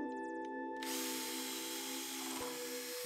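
A power drill whirs steadily and close while pre-drilling holes and driving 2.5-inch exterior screws into a wooden cornhole board frame, with the motor pitch dropping briefly near the end.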